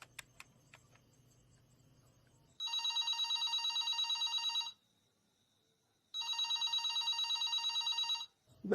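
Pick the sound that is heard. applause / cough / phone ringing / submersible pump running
phone ringing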